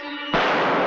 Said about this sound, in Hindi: ये फायर की आवाज कहां से आई?